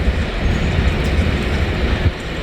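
Railcars of a freight train rumble steadily past at close range, a dense continuous roar with faint rhythmic clatter from the wheels on the rails.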